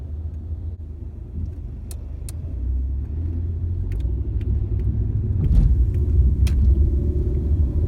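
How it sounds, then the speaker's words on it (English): A used car on a test drive pulls away on a major street, its engine rumble building steadily as it gathers speed, with road and tire noise swelling in the cabin and a few small rattles or clicks, no talking. "This will let us pick up a little bit of speed, feel how it shifts through the various gears and how it does at higher speeds."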